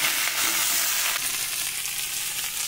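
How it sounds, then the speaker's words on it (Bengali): Mixed vegetables (beans, eggplant, onion, green tomato, potato) stir-fry in hot oil, a dense close sizzle with scraping stirring throughout. "সবজিগুলো আমি খুব ভালো করে নেড়ে চেড়ে ভেজে নেব।"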